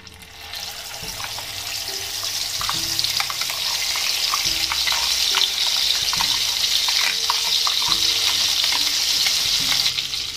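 A paste of onion, tomato, garlic and cashew hits hot oil with cinnamon and black pepper for a hotel-style cashew curry, raising a loud, steady sizzle that swells and holds, with occasional spoon scrapes and no talk.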